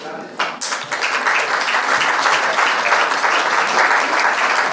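Guests at a charity dinner break into applause, the clapping starting with a few claps and quickly swelling into dense, sustained crowd clapping that holds steady to the end.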